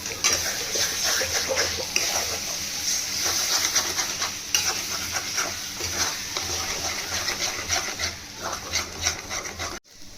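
Two eggs are scrambled into bhujiya in a pan, with a continuous soft sizzle under repeated scraping and rubbing stirs, close and moderately loud throughout.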